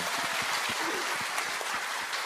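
Audience applause during a Korean TV talk show, a steady dense wash of clapping that carries evenly through the whole moment without breaks.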